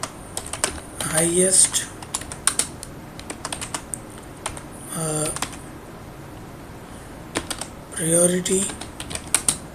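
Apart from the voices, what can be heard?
typing on a computer keyboard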